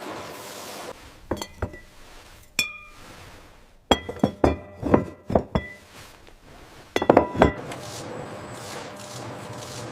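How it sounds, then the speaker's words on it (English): Wine bottling robots at a large-scale winery move glass bottles, producing sharp glassy clinks in scattered clusters over a low machinery hum, close and distinct. "The bottling robots are calibrated and working flawlessly."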